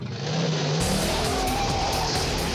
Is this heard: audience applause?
no